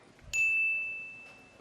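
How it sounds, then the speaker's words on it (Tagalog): A debate timer bell gives a single bright ding with a clear, ringing tone that decays slowly over about a second, in a quiet hall during a political debate. "Ang unang bell po ay 10-second mark, so you have 10 more seconds after the first bell"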